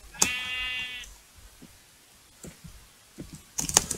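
A single sheep bleat from the video game Minecraft rings out near the start, followed by scattered soft clicks and taps, with a brief burst of noise near the end.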